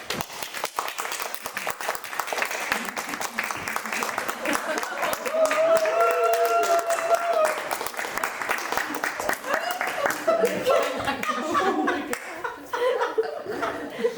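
Audience applause at a rural-themed fashion show rehearsal, steady scattered clapping running throughout with some laughter and voices mixed in.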